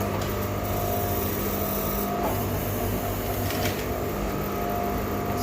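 A sewing machine runs top stitching through a neck facing in a steady, continuous mechanical whir with a faint rhythmic needle chatter, close and unbroken throughout, with no voice over it.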